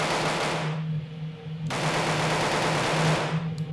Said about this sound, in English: Let's see how fast I can shoot.